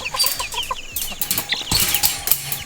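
Chickens clucking in quick, busy bursts near the listener while escaping, with some rattling mechanical noise mixed in and no speech.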